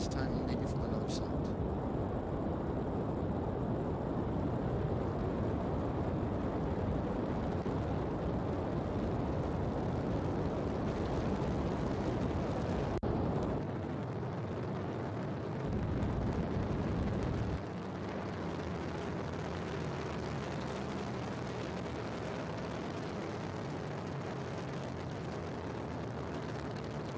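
A Vega rocket launch replay in Kerbal Space Program gives a loud, continuous broadband roar for roughly the first half, which then thins and drops off, while a commentator's voice talks over it.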